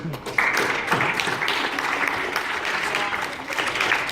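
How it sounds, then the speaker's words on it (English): An audience of parents and guardians applauds at a boys' team season awards event, with steady, dense clapping filling the room from start to finish and some voices mixed in under it. "I think, boys, you owe your parents, guardians, a round of applause."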